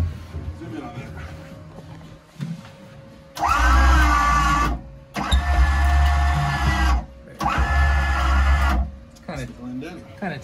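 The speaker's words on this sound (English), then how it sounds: "So you can see the motor. I can turn it on, you can see it, reel it in." An electric winch motor on a new Mikelson 43-foot boat reels in a line, whining in three steady bursts of a few seconds each. Someone talks before and between the runs.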